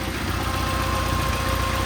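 A classic Mini Cooper engine idles steadily after warming up, with its cooling fan running, producing a continuous, close, even mechanical drone with a faint hum and no talk over it.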